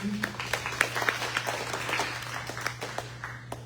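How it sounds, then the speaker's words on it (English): Audience applause at a city candidates forum for a council ward, a steady patter of clapping over a low constant hum, moderate and slightly distant, with a few sharper claps standing out. "Let's give a round of applause."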